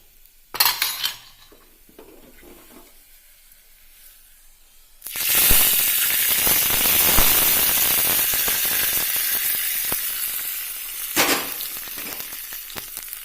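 Hot mustard-seed tempering poured into a drumstick and raw mango curry, a sudden loud sizzle that rushes up and then slowly fades, preceded by a few utensil clinks and quiet handling, with another clank near the end.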